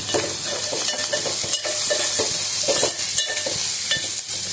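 Garlic frying in a pan for a cauliflower tomato fry, a continuous close sizzle punctuated by frequent rhythmic scrapes and clacks of a stirring spoon, with no speech.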